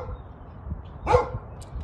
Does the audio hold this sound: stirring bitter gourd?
no